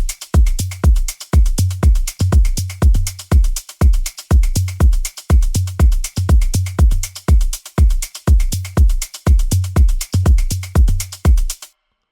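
Punchy electronic afro house drum group loops steadily, with a deep kick, snappy hits and bright shakers in a repeating groove, loud and upfront, ending abruptly.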